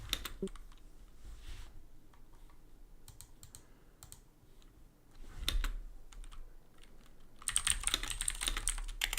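Rapid clicking of keys on a computer keyboard, steady and close, with a few louder bursts and a brief pause midway; no one speaks.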